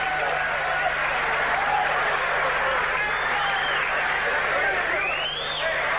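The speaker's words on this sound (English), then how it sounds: "The crowd loving it" Boxing crowd at a fight night in the Hyatt ballroom, cheering and applauding steadily after the final bell of a James Toney bout, a dense roar with a commentator talking over it throughout.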